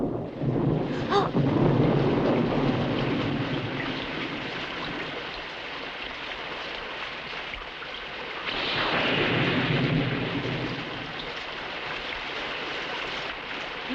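Thunderstorm with steady rain and rumbling thunder, a broad roar that swells in the first seconds and again later, loud and continuous throughout with no voices.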